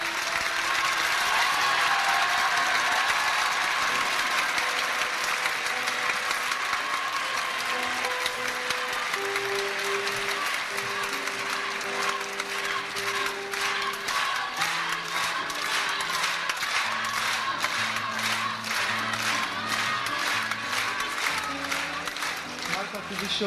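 A concert audience applauding and cheering after a song, a loud, dense wash of clapping and crowd noise that continues throughout, with voices and a tonal sound rising within it.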